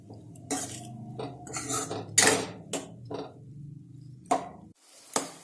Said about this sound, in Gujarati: હવે આપણી આ ડુંગળી આછી ગુલાબી થાય ત્યાં સુધી તેને આપણે તેલમાં સાંતળવાની છે।